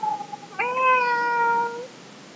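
A cat gives one clear, drawn-out meow at close range on Majuli river island, with a fainter, shorter call just before it and no talking.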